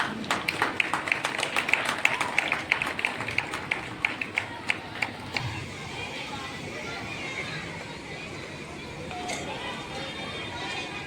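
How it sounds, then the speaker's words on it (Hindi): An audience at a school annual function at Saraswati Shishu Mandir, Safiyabad, Munger, claps in a steady rhythmic beat that fades after about five seconds. Crowd chatter and an announcer's voice carry on underneath. "तो मेरे चेले को जरा तालियों से"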